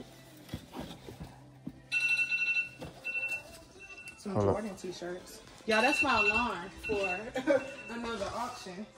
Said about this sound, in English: that's my alarm for another auction.